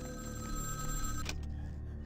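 Electronic telephone bell rings in a video game set in a hillside mansion, a steady tonal ring over a low ambient drone that cuts off abruptly partway through.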